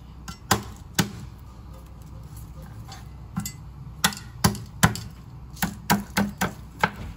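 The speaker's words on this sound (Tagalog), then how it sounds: "magpupukpok na tayo ng bawang" Garlic being pounded with a mallet while cooking salmon with pakbet, a series of sharp, loud knocks in uneven clusters, mostly single blows with short runs of quick strikes, heard alone.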